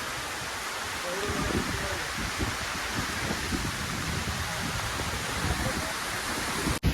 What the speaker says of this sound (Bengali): পুরো বাগানে প্রচণ্ড বৃষ্টি হচ্ছে।